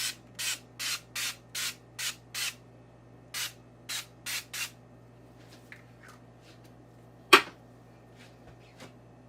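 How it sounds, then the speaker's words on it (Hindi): A can of cooking oil spray greases a cake pan in about a dozen short, crisp bursts in quick succession, followed by quieter handling clicks and one sharp knock, close and with no talking. "अब इसको स्प्रे करेंगे, ग्रीस करेंगे या स्प्रे कर दें आप"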